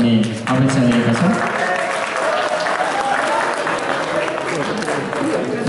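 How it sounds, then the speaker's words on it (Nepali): Sustained audience applause at a ribbon-cutting ceremony during a Nepali community cultural event in Japan, dense and steady clapping from a crowd that holds for several seconds with a voice briefly audible at the start. "रिबन काट्ने क्रममा कृपया सबैले ताली बजाएर सहयोग गर्नुहुनेछ"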